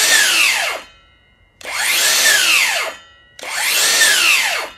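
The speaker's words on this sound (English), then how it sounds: "when you start up your saw, does it change angles?" DeWalt and Hercules cordless circular saws revving up, three loud close bursts in which the motors whine upward to full speed and then spin down, separated by brief pauses, with no voices.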